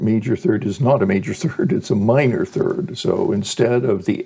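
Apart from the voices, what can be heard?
No everyday noises stand out.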